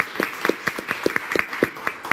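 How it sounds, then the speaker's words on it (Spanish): Audience applause for a Ministry of Education specialist at a talk on parenting, sparse and light with a handful of distinct claps over a soft background, modest in volume. "Un aplauso para nuestra."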